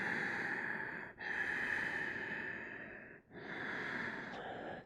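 Steady, audible breathing during a yoga class, a long continuous breath sound broken by two brief pauses, close and fairly quiet with no talking.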